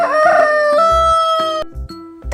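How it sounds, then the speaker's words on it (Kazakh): A rooster crows loudly and close by in a single drawn-out cock-a-doodle-doo lasting over a second, with no voices around it. "Әтеш."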